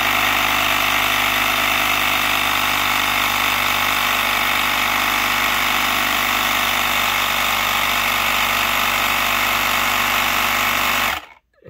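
An electric tire inflator pumps air into the flat tire of an InMotion V12 HT electric unicycle, a loud, steady buzzing drone that runs unchanged for about eleven seconds before cutting off abruptly at the end.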